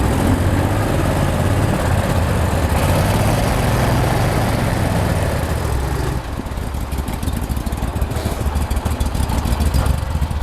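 A Hanko Boats Model 2096 center-console boat with a dual surface drive, engines run at full power in reverse, roars steadily and loudly up close, with a continuous churning drone and no talk.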